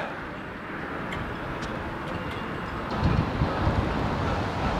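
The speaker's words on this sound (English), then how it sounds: "It's very, very windy." Wind blows hard across a harbour at Bantry in County Cork, a constant broad rush with a faint wash of water beneath, growing louder and gustier toward the end.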